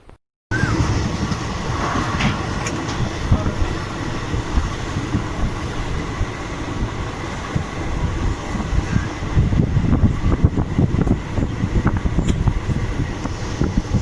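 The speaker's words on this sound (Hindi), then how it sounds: "शाहजहांपुर वाली लाइन ट्रेन अब धीरे धीरे देखिए शाहजहांपुर आउटर की तरफ पहुंच रही है" A train runs along the railway line toward the Shahjahanpur outer, with a continuous loud rumble and rattling of wheels on track, plus some wind buffeting.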